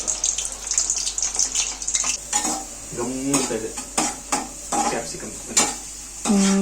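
Cornflour-coated mushrooms frying for mushroom Manchurian, with a bright sizzle under clinks and scrapes of a spoon or utensil against the pan, and a few brief knocks and clatters scattered through.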